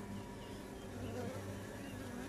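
Honeybees buzzing at the entrance of a hive in an apiary, a soft continuous swarm-like drone with individual bees weaving close by, steady and faint throughout.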